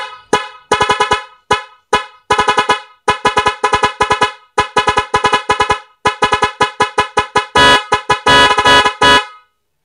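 A Nhay 3 Pro music horn drives dual car horns in a loud, rapid, rhythmic series of honks. The short blasts form a melodic pattern and end in a denser burst, with no voices.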